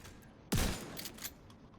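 A single shotgun blast in a video game, one sharp loud report followed by a short fading tail and faint mechanical clicks.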